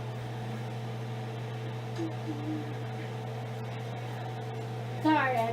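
A kitchen stove exhaust fan runs steadily with a constant low hum and airy whoosh, a close indoor drone that holds level throughout, with a brief clatter near the end.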